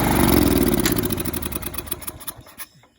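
A 25-year-old weedeater with a flathead engine and a carburetor that still needs work runs at a loud rattling buzz, then sputters and dies away over a few seconds.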